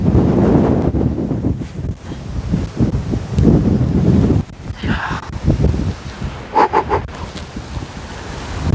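Strong wind buffets the microphone at a seaside viewpoint in Kyrenia, Cyprus, loud gusty roaring with rustling and surf-like wash that briefly eases before returning.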